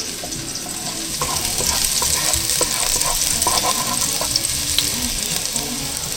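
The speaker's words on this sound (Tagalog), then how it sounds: "Ako po ay maglalagay na ng regado. Bawang muna." Garlic sizzles and sautés in a hot pan with steady, crackling frying and occasional stirring scrapes, close and loud throughout with no talking.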